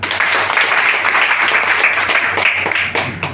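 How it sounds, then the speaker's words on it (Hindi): Loud applause from an audience at a DXN business seminar, with dense, sustained clapping that holds steady, close and strong for the whole stretch. "जोरदार ताली।"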